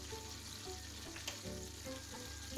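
Flour goes into melted butter in a pan, giving a soft, steady sizzle with light stirring over a faint tonal background.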